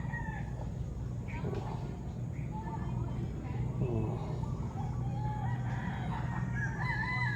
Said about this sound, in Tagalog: Huning bukid talaga dahil mga manok tsaka mga ibon no, narinig mo dito eh.